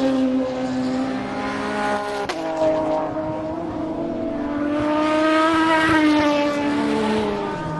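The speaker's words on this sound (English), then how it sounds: "Those two were an Aston followed by a Peugeot." An Aston Martin and a Peugeot race car pass on track, heard from close to the circuit: a loud, sustained engine roar that rises and falls in pitch as the two cars sweep by one after the other.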